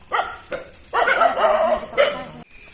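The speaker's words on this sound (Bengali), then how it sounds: "কুকুরগুলো চেঁচাচিল্লি করে দিচ্ছে।" Dogs barking loudly and close by: a few quick yips followed by a longer run of harsh, yelping barks and a final bark, with no talk.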